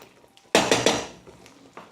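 A spoon scrapes and knocks against a pan while mint halwa is stirred, three sharp close clatters followed by softer scraping taps, with no voices.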